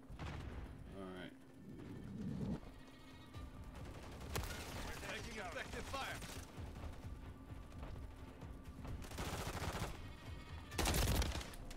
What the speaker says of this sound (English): That's a sentry gun over there.